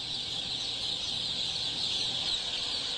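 Thousands of chicks peep together inside a poultry farm building, a dense, continuous high chirping that holds steady and fairly faint, with no voices.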